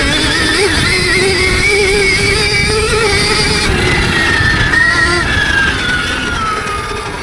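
A Stark Varg EX electric dirt bike in power mode 2 whines steadily out in a field, its high electric motor tone rising and falling with throttle, close and fairly loud, with wind noise underneath.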